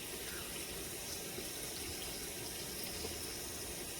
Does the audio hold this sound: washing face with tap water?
yes